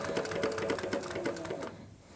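An industrial sewing machine stitches leather at close range with a quick, rhythmic run of needle strokes that stops near the end.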